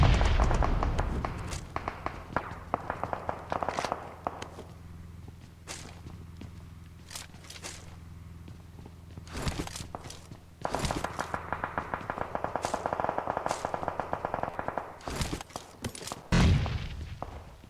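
Gunfire and grenade blasts in the PUBG video game come as sharp isolated shots and short bursts scattered across the scene, with a louder explosive burst near the end and quieter stretches between.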